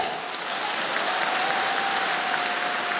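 Audience at a Liga Smikhu improv comedy show applauds continuously, dense and sustained clapping filling the whole few seconds.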